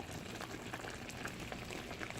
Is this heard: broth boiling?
yes